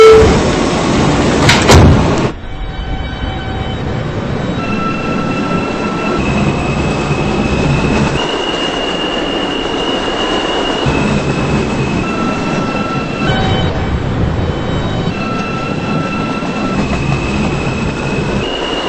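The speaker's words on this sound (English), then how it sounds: "This is a Queens-bound E train via the R line." A Queens-bound E subway train runs loud and steady, its wheels squealing in long high tones over the continuous rail roar, with a sharp burst near the start.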